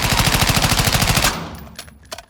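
A Honey Badger automatic rifle in Call of Duty Modern Warfare II fires a loud, rapid sustained burst of about a second and a half, then cuts off, leaving a ringing tail and a few faint clicks.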